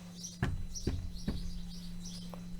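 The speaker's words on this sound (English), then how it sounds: "the birds are giving me what for" Birds chirp and tweet outdoors in short bright calls, several bursts scattered over a steady low hum, fairly close and clear with no talking.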